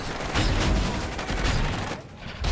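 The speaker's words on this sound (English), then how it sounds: "Going from all this gunfire, all these, this is a crazy artillery, just front line" Dense, continuous front-line battle noise in a film mix, with rapid gunfire and heavy artillery booms, loud throughout and dipping briefly near the end before surging back.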